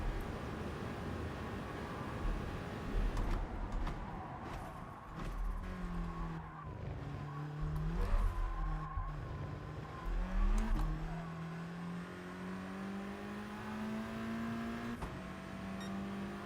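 A race car in the GT Sport video game accelerates hard, its engine note climbing in rising sweeps through several gear changes, including an early upshift, with faint tire squeal, sustained and loud without talk.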